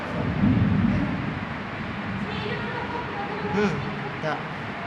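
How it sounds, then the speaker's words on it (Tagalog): Heavy rain pours outside at the Manila Zoo, a broad, low roaring wash of sound with occasional swells, while people talk over it. "Sobrang lakas ng ulan sa labas."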